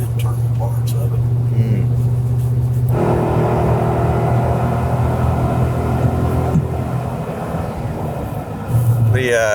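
A 2024 Ford Super Duty gas truck with a big-block engine accelerates at full throttle, its deep rising engine roar and drivetrain rumble filling the cabin steadily, with voices talking over it.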